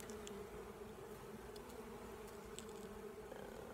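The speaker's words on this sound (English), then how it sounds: "They can see the other bees there hanging out and make their way into that opening." A swarm of honey bees hums steadily at the opening of a new hive, a dense, continuous close buzz with no talk.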